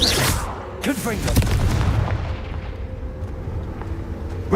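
Confringo fire spell explosions in Hogwarts Legacy: a pair of forceful booms with crackling bursts in quick succession, loud and near, fading into a low rumble, a brief voiced shout mixed in.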